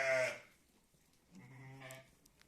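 Lambs and sheep bleat nearby, one loud call at the start and a second longer bleat about a second later, with quiet gaps around them.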